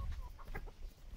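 Broody hen clucking in a farmyard, a few soft, short clucks over low background rumble, faint and brief.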